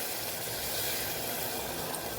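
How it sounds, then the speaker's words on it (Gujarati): Water is poured into a pressure cooker of Kathiyawadi pea and potato curry, making a brief, steady hissing splash. "તો 1 નાના ગ્લાસ જેટલું આપણે પાણી ઉમેરશું"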